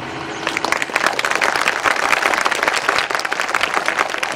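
Church audience clapping during a sermon, a dense, loud burst of many hands applauding continuously and evenly throughout.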